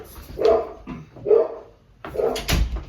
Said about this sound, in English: I didn't shut the door, so the dogs are really loud.